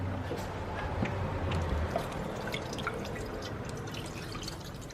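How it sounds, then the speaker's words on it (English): Coolant pouring through a funnel cut from a plastic water bottle into a car engine, a steady, faint trickle and drip that continues throughout with a low background rumble. "So I just cut a water bottle. And here goes the coolant."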